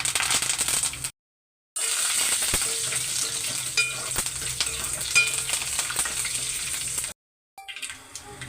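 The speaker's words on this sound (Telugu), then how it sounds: "ఆయిల్ సరిపడా ఆయిల్ వేసాను. ఎండుమిర్చి, పోపులు, కరివేపాకు." Dried red chillies, tempering spices and curry leaves sizzle in hot oil in a pan, a steady close hiss with small pops and crackles, broken by two brief silent cuts.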